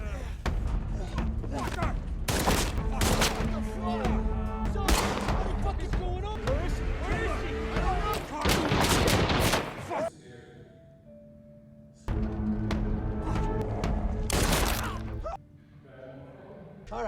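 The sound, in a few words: gunfire in a film scene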